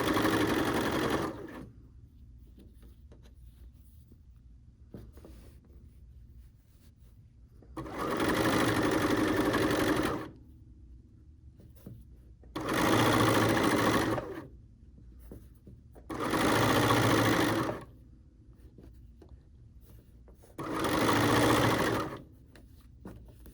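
A sewing machine stitches trim onto a blouse in five separate bursts, each running a couple of seconds with quiet pauses between, close and fairly loud with no talking.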